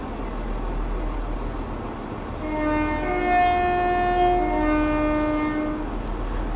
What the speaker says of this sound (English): the horn does exactly sound like the one from the ScotRail 170